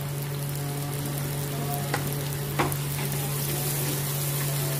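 Deggi mirch chili hitting hot oil in a pan of tomato masala for whole masoor dal, a steady dense sizzle with a low constant hum underneath and a couple of faint clinks, no talking.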